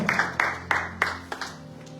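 A church congregation at a thanksgiving service claps in a steady rhythm, about three claps a second, with a faint murmur of voices underneath.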